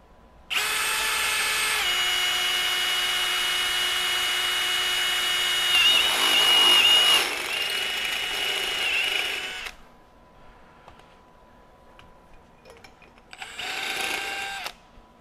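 A HERCULES cobalt step drill bit bores into aluminum with a power drill, giving a loud, steady whine that shifts pitch midway and runs about nine seconds. After a pause, a second short burst follows, with no talking.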